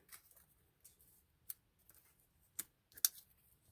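Scissors snipping paper while trimming around faux stamps glued down with a margin; a few sharp, close cuts land at irregular intervals over a quiet background, with no talking.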